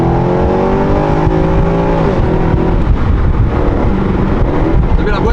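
A Mercedes C63 phase 1 accelerates with its gearbox slow to respond, a loud engine note rising steadily heard from inside the car, then settling into a rough sustained drone.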